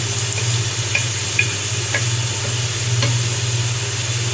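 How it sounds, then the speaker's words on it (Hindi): Two or three finely chopped garlic cloves brown in hot oil in a pan, a steady close sizzle with occasional light scraping taps of a stirring utensil over a low kitchen hum. "मैंने 2-3 कलियां लहसुन की बारीक बारीक काट ली हैं। जी हल्का सा ब्राउन करना है इसे।"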